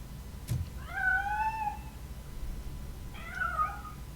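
Two plaintive cat meows with rising and falling pitch come from a cat in the video game Robocop: Rogue City, the first long and drawn out, the second shorter, both moderately near over a low ambient game hum.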